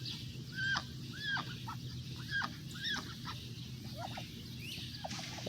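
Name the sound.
young backyard chickens making raspy calls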